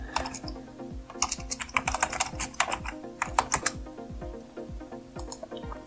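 Rapid typing on a computer keyboard while notes are entered into bookmarks in the Trace Compass software, a steady run of close, crisp clicking keystrokes in uneven bursts with no talking.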